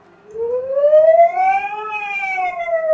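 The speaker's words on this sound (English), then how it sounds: "This one sounds like ambulance" A single wailing siren rises slowly in pitch and then eases back down, clear and fairly loud with nothing else audible.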